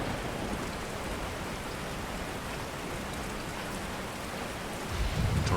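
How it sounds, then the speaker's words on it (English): Steady rain falls in a deep woods setting, a dense, even hiss of drops that holds constant throughout and swells slightly louder near the end, with no voices. "The rain was relentless."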